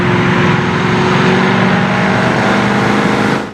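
A 1971 Dodge Challenger R/T engine holds a loud, steady roar with a droning harmonic hum for a few seconds, then cuts off abruptly.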